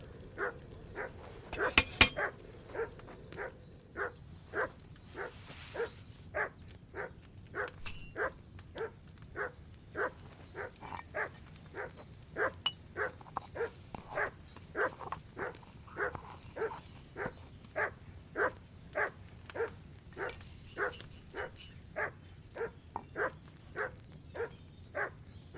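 A dog named Mutt barks in the video game Kingdom Come Deliverance, sharp evenly spaced barks repeated steadily over a low ambient background, fairly faint and unaccompanied by speech.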